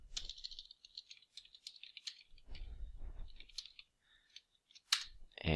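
Quick, light clicking of keys typing Java code on a computer keyboard, a close burst of irregular taps with a short pause near the end.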